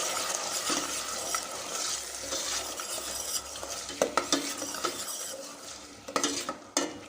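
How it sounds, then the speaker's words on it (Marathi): A spoon stirs ginger, garlic, chili and sambar masala paste into chicken biryani in a pan, with soft scraping, light sizzling and a few sharp clinks of utensil on metal, fairly quiet and close. "आणि आता आपल्याला इथे आपली ही जी अद्रक लसण मिरच्या आणि सांबाराची पेस्ट होती ती टाकूया छान मिक्स करून घेऊया"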